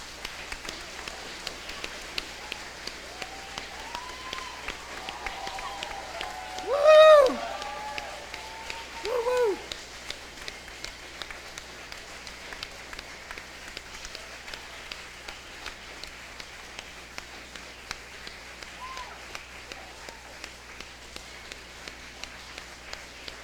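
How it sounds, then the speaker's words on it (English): A crowd at a school Veterans Day event applauds standing veterans, a soft, distant, steady patter of clapping throughout, with a couple of brief voices rising above it partway through. "let's give them a round of applause"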